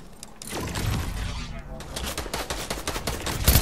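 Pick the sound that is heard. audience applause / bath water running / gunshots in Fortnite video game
gunshots in Fortnite video game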